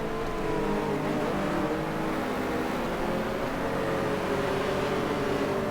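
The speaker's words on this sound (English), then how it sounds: "Smash the throttle." A De Tomaso's Ford V8 roars at full throttle in the GT Legends racing game, a steady loud engine drone with rising and falling harmonics running throughout.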